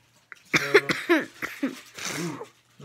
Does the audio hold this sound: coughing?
yes